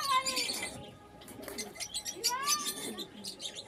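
Pigeons of the Asam breed at their loft, with repeated bright chirps and twittering calls and a few low coos, fairly close and continuous over steady background noise.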